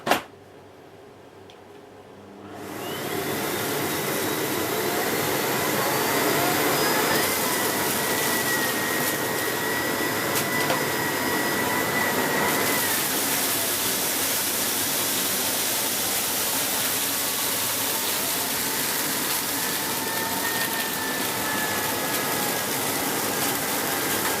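A Miele CX1 Blizzard Comfort Powerline canister vacuum cleaner from 2017, with a 1200 watt motor, runs on maximum power. It starts with a rising whoosh, then holds a loud, steady roaring hum close by, with no talk.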